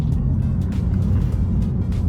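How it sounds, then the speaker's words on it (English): A 4,000 lb Lexus engine braking at high revs down a canyon road, a loud, close, steady low engine drone with road rumble throughout, no talk. "This car has been doing a good job of keeping the RPMs kind of high enough that I'm using engine braking"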